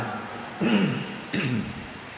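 Two short, muffled coughs, about a second apart, sound close by over a steady low background hiss.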